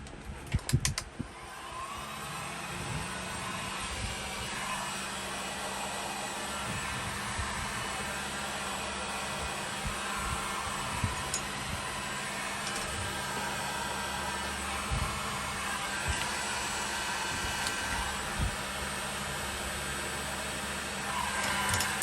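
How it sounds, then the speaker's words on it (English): A heat gun blows steadily for over twenty seconds while a plumbing nut on a Rialta motorhome is heated, giving a constant close-up airy whir with faint handling clicks mixed in. "Got my heat gun."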